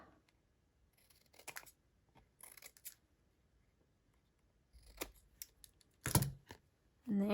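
Scissors snipping card while assembling a Starburst craft kit, a few quiet clicks and rustles up close, then a sharper cut and paper handling near the end.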